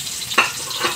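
Cooking oil in a hot pan sizzles steadily as food hits it, with a sharp crackling burst near the start and a fainter flare near the end, close and alone with no talk.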